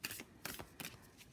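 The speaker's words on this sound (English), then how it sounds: "we'll do a little side riffle" Oracle cards are side-riffle shuffled, giving three or four quick papery riffling bursts, each with a soft flutter and snap, close and quiet.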